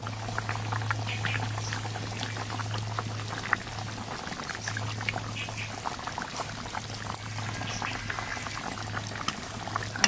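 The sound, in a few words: hilsa fish in mustard sauce simmering in a pot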